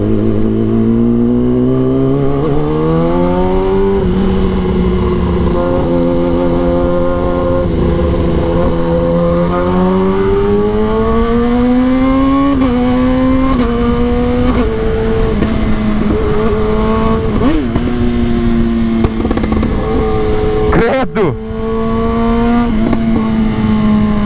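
Kawasaki ZX10R sport motorcycle riding through the city, its loud exhaust droning steadily as the revs climb and drop through the gears, close and continuous with no talking.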